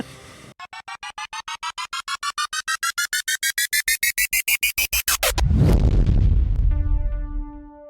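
A cartoonish rising series of rapid pulses climbs in pitch and then bursts into a loud rumbling explosion effect that decays, followed by a faint ringing tone.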